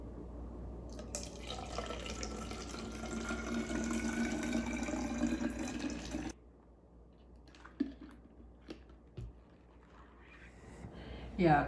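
Water pours steadily for about six seconds while homemade bleach disinfectant is mixed at one teaspoon of 7% solution per cup of water, then stops, leaving a few faint drips and small clinks.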